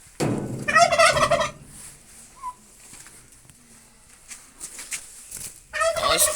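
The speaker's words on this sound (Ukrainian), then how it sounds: "Ось наші індики." Loud, rapid turkey gobbles burst out close by at the start and again at the end, with quieter scuffling and faint calls in between.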